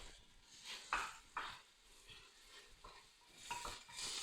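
Pork stewing with sugar and herbs is stirred in a pot, giving a few scraping, clattering strokes over a soft simmer at a modest, fairly quiet level.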